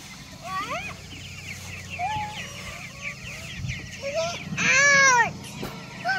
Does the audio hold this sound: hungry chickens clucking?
yes